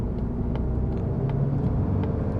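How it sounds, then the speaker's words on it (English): A 2024 Mazda MX-30 R-EV with rotary range extender accelerating on the road, heard as a steady low rumble of engine and road noise from inside the car, with no one talking. "This is still reasonably good at accelerating and overtaking, as you can see."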